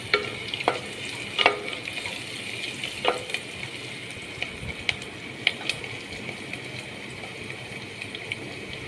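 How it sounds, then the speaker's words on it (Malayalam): Onions frying in a pan for Kerala-style beef curry, a steady low sizzle broken by scattered sharp clicks and scrapes of stirring, heard close with no talk. "അപ്പോൾ സവാള മൂത്ത് വരുന്നുണ്ട്"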